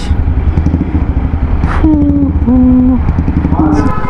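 A KTM Duke 390 motorcycle on the move gives a steady, close engine drone with wind rush, and a few brief tonal beeps rise above it.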